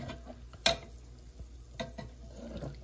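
Food frying slowly in oil on low heat for a curry dish, stirred in the pan: a soft, steady sizzle with a few clinks and scrapes of the utensil, one louder knock near the start.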